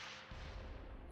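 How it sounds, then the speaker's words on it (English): A 3-inch gun fires in the Close Combat: Wacht Am Rhein video game, a single loud, deep boom that hits suddenly and rumbles briefly. "Is that a 3-inch firing now?"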